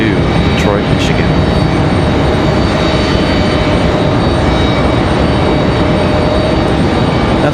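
A Delta airliner bound for Detroit departs from Raleigh-Durham, its jet engines producing a loud, broad, steady roar that holds throughout.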